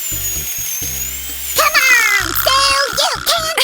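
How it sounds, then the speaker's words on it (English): An electric screwdriver fitted with a blade drills into a watermelon, a high whining motor that rises and wavers in pitch, loud and close, with sporadic background voices. "I'll insert the blade into our screwdriver. And I'll make a hole with it."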